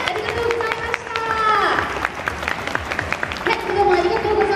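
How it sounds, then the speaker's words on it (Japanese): Audience applause at a Kumamoto food fair stage event, a steady patter of clapping that rises and continues under a host's amplified voice. "大きな拍手をお送りください。"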